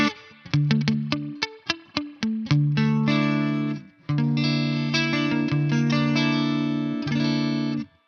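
Distorted electric guitar through a TC Electronic Combo Deluxe 65' amp plays staccato chord stabs, then sustained chords, with an emulated spring reverb tail washing behind each hit.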